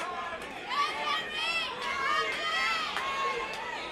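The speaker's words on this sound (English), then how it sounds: "The venue is erupting right now. The crowd is getting loud." Crowd at a charity boxing venue grows loud during the third and final round, a dense wash of cheering and chatter with shouting voices rising and falling throughout.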